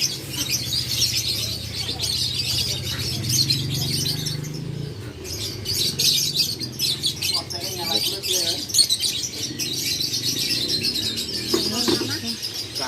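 Many caged birds chirp and tweet together at Pramuka bird market, a dense, constant chatter of calls with occasional wing flutters and people talking nearby.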